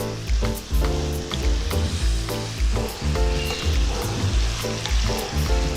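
Ginger and garlic paste fries in a pan for chicken surua with a close, loud sizzle. Stirring scrapes break it into uneven pulses, and there is no talking.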